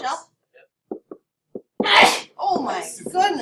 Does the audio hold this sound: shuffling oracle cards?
no